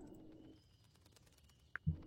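Played back from a recording, doves or pigeons coo faintly amid quiet room noise, with a couple of brief, clearer calls near the end.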